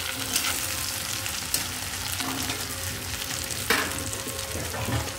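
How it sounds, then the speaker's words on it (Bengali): Large cut pieces of potato fry in oil in a pan until reddish, producing a constant close sizzle with occasional sharp clinks and scrapes of a spatula stirring, no voices. "প্রায় ভাজা হয়ে এসছে আলুটা আমার"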